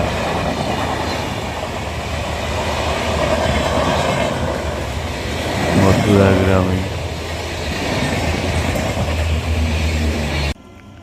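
A passenger train runs on rails with a continuous loud rumble and rhythmic wheel clatter heard from on board; a person speaks briefly partway through.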